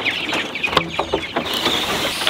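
A backyard flock of chickens with clipped wings, a rooster among them, clucking and chattering nearby in quick overlapping calls over a steady outdoor background.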